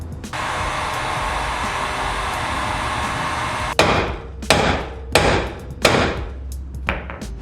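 Hammer blows knocking an outer tie rod loose on a Mitsubishi Evo 8: a steady whooshing hiss runs for several seconds, then four loud, sharp metallic strikes land close by at uneven intervals.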